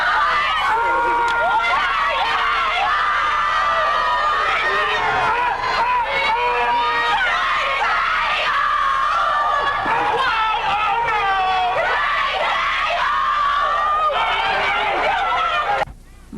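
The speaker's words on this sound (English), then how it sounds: "The girls were received by a large crowd at Holland Hall." A large crowd at Holland Hall cheers and chatters for the Hampton University 2004 Kelsey Hall step team, a loud, dense wall of excited voices, yells and babble that continues throughout before cutting off abruptly.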